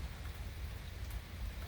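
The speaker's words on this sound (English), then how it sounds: "So that at least shows you how hard it's been raining." Dense, steady rain hisses and patters continuously, a broad low rumble underneath, with no voices.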